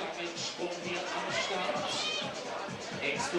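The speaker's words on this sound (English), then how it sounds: "You can hear as well just how psyched the crowd are to see a new high point on that problem." Crowd at the Studio Bloc Masters 2025 bouldering semifinals cheering and roaring steadily throughout, a dense wash of excited voices with a commentator talking over it.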